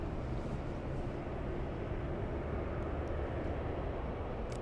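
A Southwest Airlines Boeing 737-900 on its takeoff roll at LAX, bound for Phoenix, gives a steady, distant broadband roar that holds at an even, fairly faint level throughout, with no voices.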